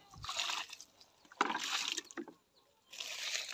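A freshly planted lime cutting being watered by hand, with soft, close splashes and trickles of water arriving in a few short bursts separated by quiet gaps.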